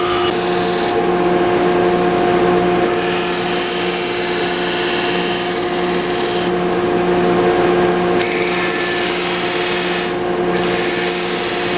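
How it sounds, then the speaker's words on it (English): Power sander smoothing a wooden foundry pattern in a pattern-making shop: a steady, loud grinding rub runs throughout, with the abrasive hiss rising and dropping as the piece is pressed and eased against the sander. "So I'm gonna go to the bandsaw and over to the sander, sand these things out."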